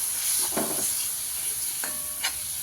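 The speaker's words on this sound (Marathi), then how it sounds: "आपण खोबरं टाकून घेतलेलं आहे आता थोडंसं हलवून घेऊया" Grated coconut stirred into a frying masala in a pan: a soft, continuous sizzle with two or three brief scraping stirs, fairly quiet and with no talking.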